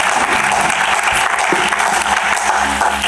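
A church congregation applauds in praise, a dense, steady wash of clapping from a large crowd that fills the space without pause.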